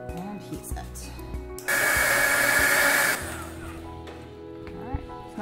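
A heat tool roars on for about a second and a half to heat-set paint on a mixed media bookmark, a steady loud blowing hiss that starts and stops abruptly amid quieter handling sounds.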